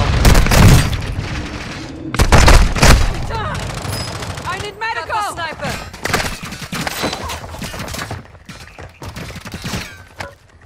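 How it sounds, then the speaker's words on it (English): Call of Duty Warzone gunfire crackles in loud bursts and scattered single shots, with heavy booms early on and sporadic shooting continuing underneath game voices. "I'm taking fire!"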